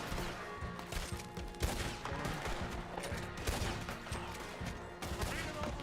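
Dense gunfire rattles in Red Dead Redemption 2, shots cracking in rapid overlapping volleys throughout a chaotic battle, with shouting voices mixed in.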